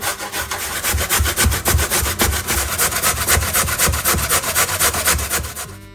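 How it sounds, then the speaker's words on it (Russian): Steady rapid rasping strokes of a carrot grated on a metal grater, loud and close, continuing rhythmically without pause or voices. "И сразу же натрем 1 морковь среднего размера."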